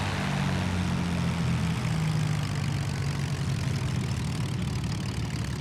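Twin engines of a de Havilland Mosquito idling in a flight simulator, a steady, loud, low droning rumble with a faint propeller throb, unchanging throughout.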